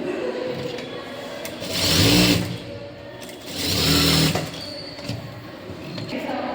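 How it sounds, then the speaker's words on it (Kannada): Sewing machine stitching around the lining of a princess cut blouse, running in two bursts of a few seconds each with quieter gaps between, close and fairly loud. "ಇವಾಗ ಸುತ್ತ ಹೊಲ್ಕೊಂಬಿಡೋಣ."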